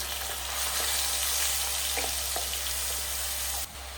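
Steady sizzle of an onion and garlic paste frying in hot oil with cumin, with a low hum underneath and a few soft clinks; it cuts off abruptly near the end.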